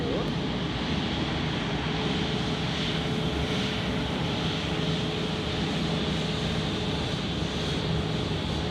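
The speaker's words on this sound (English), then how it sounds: "Here we have the Airlines A350, which has just landed before" An Airbus A350 airliner that has just landed at Zurich Airport gives off a steady, broad jet roar with a faint whine, heard from a distance and continuous throughout.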